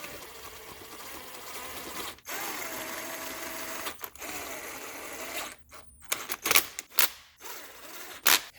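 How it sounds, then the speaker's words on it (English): Bolts on a 2002 Honda CR-V starter being run up with a 12 mm universal flex socket, giving steady close mechanical whirring and ratcheting with several brief sharp clicks and pauses toward the end. "just get a 12 millimeter universal socket, flex socket, and just run all these bolts up"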